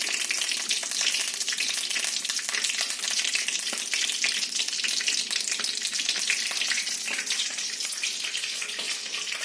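Mustard seeds fry in hot oil for an egg gravy, a loud, dense, unbroken sizzle with fine crackling pops throughout.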